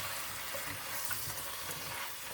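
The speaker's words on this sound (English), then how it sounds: "I'm going to go ahead and put that in the mixture and give it a quick stir." Diced tomatoes being stirred into a sizzling squash and zucchini mixture in a pan, a steady close frying hiss with soft scraping of the stir throughout, no voices.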